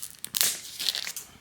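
A boxed set of 44 oracle cards is opened, with faint close crinkling and tearing of packaging in short bursts.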